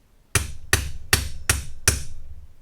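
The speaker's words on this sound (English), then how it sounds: "we're going to take a hammer, and we're going to stick it on the flywheel here" Five sharp hammer blows on a spacer set against the flywheel of a Red Max hedge trimmer, evenly spaced and loud, each ringing briefly before the next strike, with no talking.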